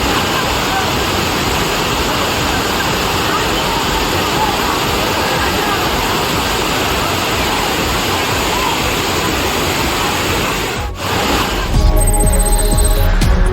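A gushing waterfall at Panchalinga falls roars loud and steady, a dense continuous rush that briefly dips near the end before a different sound takes over.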